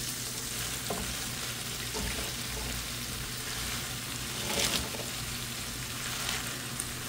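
Fresh malabar spinach dropped into shrimp masala frying in a pan, a steady close sizzle with a brief louder burst of crackling midway, no talking.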